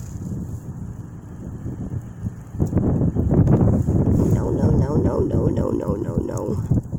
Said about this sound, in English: Oh, jeez, there's a big gust of wind coming.